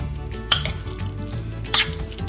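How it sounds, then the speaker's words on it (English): A spoon stirs marinara sauce with garlic and herbs in a pan, giving soft wet sloshing with two sharp clinks against the side and a faint sizzle beneath. "I'm going to mix that up a bit."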